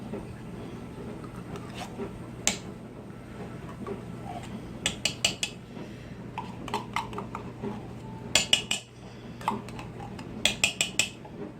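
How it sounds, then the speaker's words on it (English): Tomato paste scraped from a whole can into an Instant Pot, with repeated metallic scrapes, taps and clinks in short bursts over a low steady hum. "I'm going to add my tomato paste, thicken it up just a little bit. I'm going to add the whole can."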